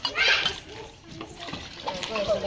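Water splashes and sloshes as it is scooped and poured in a water-filling race at a school Pongal celebration, with children's voices and speech over the splashing.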